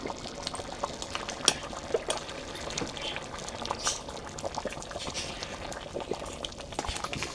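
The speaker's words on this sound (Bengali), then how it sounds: "এই যে ফুটে উঠেছে, প্রায় হয়ে এসেছে রান্নাটা।" A pot of vegetable khichdi bubbles on the stove with a soft, continuous simmer, scattered small pops and plops rising through a low background hiss.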